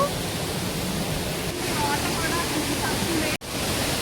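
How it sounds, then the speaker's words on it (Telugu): Steady, loud rush of a tall waterfall near Visakhapatnam, a dense continuous roar that fills the whole clip with no break except one momentary dropout. "వాయిస్ క్లియర్గా లేదు వాటర్ సౌండ్ వల్ల"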